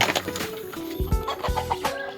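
A hen clucking close by in a series of short, uneven calls, with some farmyard rustling around it and no speech.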